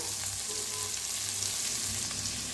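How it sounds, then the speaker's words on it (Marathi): Chopped onion sizzles and fries in hot oil while being stirred in a pan for an egg curry: a continuous soft crackle with light scraping, close and even. "हलवून हलवून असं भाजून घ्यायचा कांदा"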